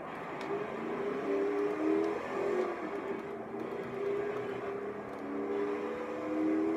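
Ford Bronco engine droning in Forza 3 as the truck drives through wilderness, a steady mid-level hum with gentle rises and dips in revs, no talking.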